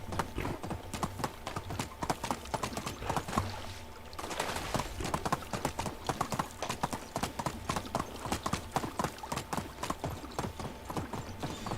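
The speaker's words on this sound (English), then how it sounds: "jump the stream so it doesn't slow down the horse" Horse hooves clop in a fast, rhythmic galloping beat in Medieval Dynasty, steady and fairly close as the rider crosses a stream, with faint talk underneath.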